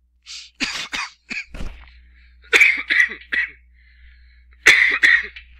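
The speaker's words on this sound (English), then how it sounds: "Sorry for my coughing, guys." A series of short, harsh coughs in irregular bursts, close and fairly loud, with brief quiet gaps between them.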